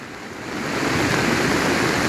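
A swollen river in the Konkan, overflowing near a bridge after torrential rain, roars as a steady broad rush of water that builds quickly and then holds loud and constant.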